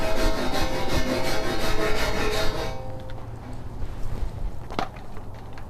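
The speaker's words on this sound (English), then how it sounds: "I have gone over both sides of this steel plate here with the wire brush" Rapid rhythmic scraping of a wire brush over a rusty steel centerboard plate from a trailer sailor swing keel, loud and continuous for about three seconds, then fading into lighter, sparser rubbing and a brief scrape.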